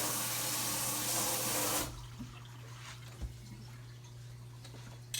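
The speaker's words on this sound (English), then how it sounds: "Let me rinse this out here." Tap water runs loudly into a kitchen sink for nearly two seconds as something is rinsed, then cuts off, leaving a quiet room with a few small clicks and knocks.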